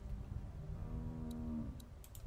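A cow in The Walking Dead game lets out a single drawn-out low moo, clear and fairly close against a quiet ambient background, with a few small clicks afterward.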